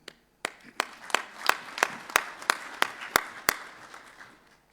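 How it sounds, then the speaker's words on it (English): Delegates at a Zimbabwe–South Africa meeting clap, a sparse run of about a dozen sharp, distinct claps at a fairly even pace over quieter background clapping, fading toward the end. "Let us applaud ourselves for a job well done."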